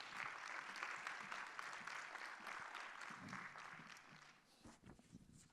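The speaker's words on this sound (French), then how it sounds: "Et on peut l'applaudir." Applause from a conference audience greeting a speaker who builds a robot, a steady wash of many hands clapping that carries on for several seconds before tapering off near the end.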